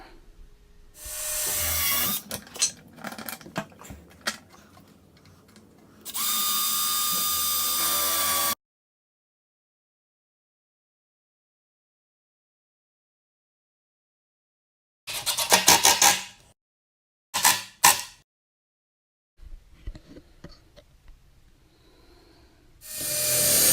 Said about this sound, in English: Pre-drill, countersink, and screw in the top shelf to the other side.